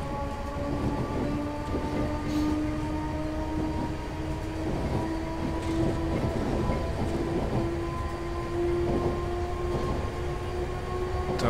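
A BR483 electric train in Train Simulator 2017 pulls away under full power, its steady motor whine rising in pitch over a low rolling rumble that stays loud and continuous throughout.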